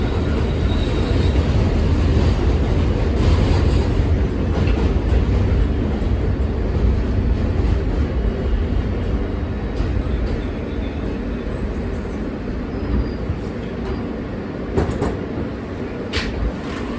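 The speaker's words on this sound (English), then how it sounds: "This is a Broadway Junction-bound L train." An R160A subway L train in New York runs on its tracks with a steady loud rumble and rattle heard from inside the car, punctuated by occasional sharp metallic squeals and clicks.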